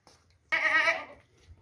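A healthy goat gives one short, close, wavering bleat lasting about half a second in an otherwise quiet setting.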